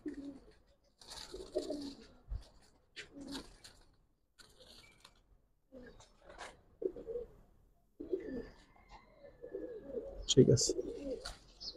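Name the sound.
Giribaz pigeons cooing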